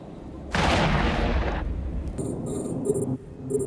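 A battleship is destroyed in the space game EVE Echoes with a sudden loud, roaring explosion that holds for about a second and then fades, followed by electronic beeping tones.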